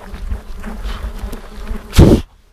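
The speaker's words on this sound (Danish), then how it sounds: "så er fluerne her stadigvæk" Flies buzz close by on a coastal hiking trail after rain, a continuous, wavering hum ending in a louder, brief thump before falling quiet.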